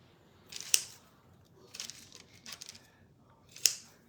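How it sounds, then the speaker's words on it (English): A few crisp snips of scissors trimming excess twine in a kitchen, three or four short sharp cuts spaced unevenly, close and quiet with a little crinkling between them, no talk. "I'm gonna trim the excess twine off."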